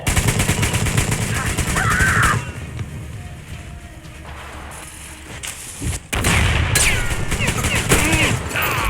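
Gunfire in the Metro Exodus video game comes in loud, rapid bursts of close automatic shots, breaking off into a quieter stretch midway before heavy firing resumes.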